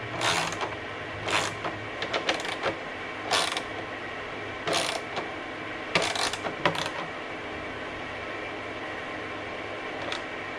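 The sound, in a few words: tightening down Harley tour pack mounting hardware in star pattern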